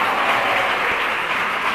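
Students and audience at a school computer quiz clap together, a dense, continuous wash of many hands at moderate loudness, even and unbroken, with no talking over it.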